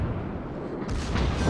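Rear turrets of a Russian tier-5 battleship, the Pyotr Velikiy, fire in the naval video game World of Warships, a deep rumbling boom swelling into a loud blast near the end.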